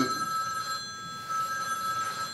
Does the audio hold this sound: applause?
no